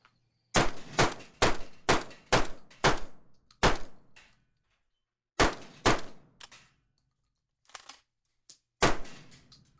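A MAC 2 Tradesman shotgun fires a rapid string of loud, sharp shots with metallic clanks of shells cycling between them, pausing, then a few more blasts and clatter, with no voices.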